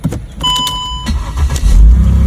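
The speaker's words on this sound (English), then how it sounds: "may you hear the sound of the engine" A car engine cranks with a brief whine, then catches and settles into a loud, close, deep running rumble that strengthens toward the end.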